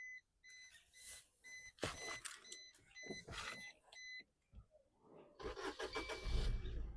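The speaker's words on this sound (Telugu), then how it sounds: "సింగిల్ సెల్ఫ్లో బండి స్టార్ట్ అవుతుంది సార్." A 2018 Maruti Brezza ZDi+ diesel with automatic transmission cranks briefly and catches, its engine building to a steady mid-pitched idle after a few seconds of clicks, chimes and cabin switch sounds, close by with no voices.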